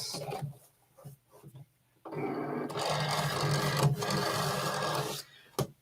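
A Cricut Explore Air 2 cutting machine whirs and rattles steadily for a few seconds, with brief clicks and mechanical movements before and after.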